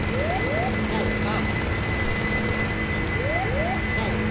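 Boeing 747 jet engines at heavy takeoff power on a short runway, a steady loud roar with high whine that holds throughout, while people talk over it.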